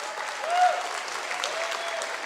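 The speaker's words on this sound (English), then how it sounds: "Can we have a round of applause for these 2 gentlemen?" An audience at a live independence talk in Morinville claps in a short burst of steady, moderately loud applause.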